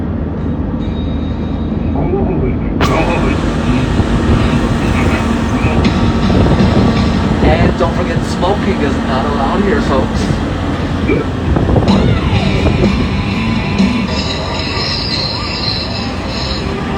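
Universal Studios tour tram rolling along steadily, wheels squealing loudly and continuously at close range, with a guide speaking over a public address system throughout.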